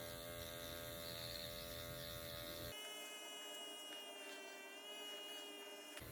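A Dr. Pen Ultima M8 microneedling pen running during a home facial treatment, a faint steady electric buzz that shifts to a higher whine partway through, close and continuous with no talk.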